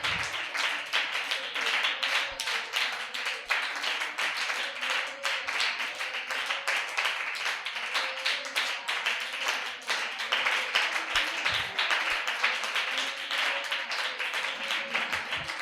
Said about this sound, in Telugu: మీ చప్పట్లు తగ్గించండి, మీ చప్పట్లు తగ్గించి మాటలు పెంచండి